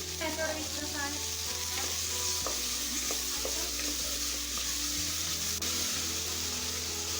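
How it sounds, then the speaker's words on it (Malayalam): Onions with salt sautéing in a pan for beef mappas: a continuous close sizzle with occasional spatula scrapes and taps against the pan. "നമുക്കിതിനെ നന്നായിട്ടൊന്ന് വഴറ്റിയെടുക്കണം."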